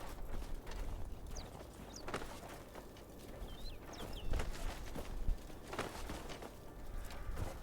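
Horse hooves in the video game Crimson Desert, a faint uneven clip-clop of steps with soft bird chirps and mechanical background sounds.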